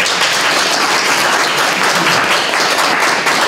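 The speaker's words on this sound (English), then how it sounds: "I feel like there's a round of applause" A full round of audience applause in a higher-education discussion session, loud and sustained throughout, with many hands clapping evenly and no speech over it.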